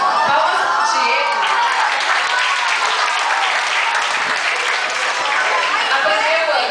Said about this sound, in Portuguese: Palmas pro Diego.